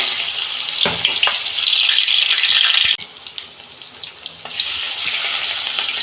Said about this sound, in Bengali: ব্যাটারটা আমি বার করেছি এই যে আমি এবার ভাজবো কড়া বসিয়েছি তেল গরম হয়ে গেছে